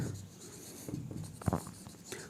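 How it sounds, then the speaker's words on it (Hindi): Writing by hand during a class 10 maths lesson, faint scratchy strokes and a couple of taps in a quiet room, soft and close. "चलो लिखते हैं थोड़ा सा।"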